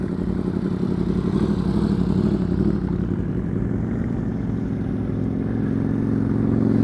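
Motorcycle engine idling and ticking over at low, quiet speed during a riding skills practice session, a steady close rumble with a slight rise toward the end.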